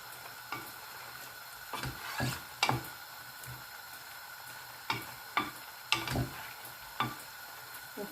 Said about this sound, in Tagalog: Hayaan ko lang konti na maluto for few minutes.